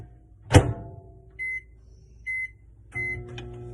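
A microwave oven cooking scrambled eggs gives a dull thump, then three short, even electronic beeps about a second apart, close and fairly clear over a low hum.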